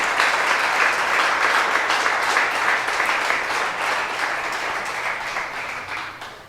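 A church congregation gives a strong round of applause during a Sunday service, a steady wash of many hands clapping together that fades slightly toward the end.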